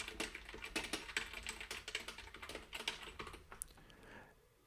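Quiet, steady typing on a computer keyboard while writing code for a test, the keystrokes fast and irregular, fading out at the end.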